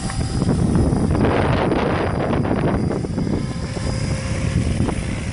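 Strong wind buffeting the microphone, a continuous low roar and rumble with no voices.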